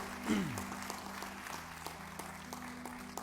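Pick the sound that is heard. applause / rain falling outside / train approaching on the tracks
applause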